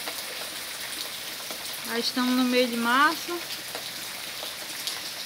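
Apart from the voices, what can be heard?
rain falling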